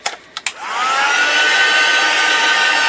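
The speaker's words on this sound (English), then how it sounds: "I'm just going to emboss it now and heat set it." A heat gun heat-setting embossing powder starts after a few short clicks, then blows a steady, loud whooshing hiss with a faint high whine that holds to the end.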